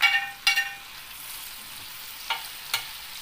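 Shallots frying and being stirred in a pan while cooking butter crab, with a steady low sizzle broken by a few sharp scrapes and clatters of the stirring utensil.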